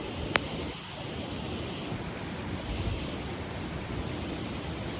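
Steady rain falls outdoors in the countryside as a dense, even wash of noise, with a brief sharp click near the start and no talking.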